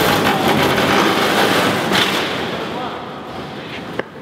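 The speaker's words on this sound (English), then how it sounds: "What was that? That was a train." A loud, broadband rumble of a passing train fills the clip, gradually fading as it moves away, with a brief sharp click near the end.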